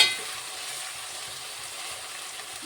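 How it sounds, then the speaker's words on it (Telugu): Broad beans frying in oil, a steady close sizzling hiss that stays even throughout with no voices. "ఆయిల్లో ఇలా మంచిగా వేగుతుందండి"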